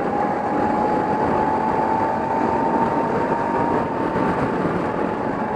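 A Honda CRF250 Rally 250cc motorcycle in sixth gear at about 90 km/h opens to full throttle, a steady loud drone of engine and wind roar heard from the rider's position, with no talking.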